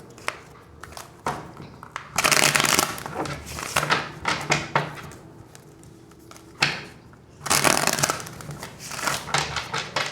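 Tarot cards being shuffled, loud papery riffling bursts alternating with softer handling sounds and taps, close and without talk.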